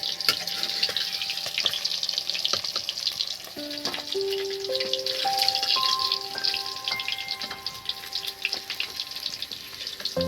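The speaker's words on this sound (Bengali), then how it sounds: "এবার দেখুন একদম কাতলা মাছটা আমি ভেজে নিচ্ছি" Pieces of katla fish fry in hot oil with a continuous crackling sizzle, close and fairly loud, while faint tonal chimes rise in steps in the background.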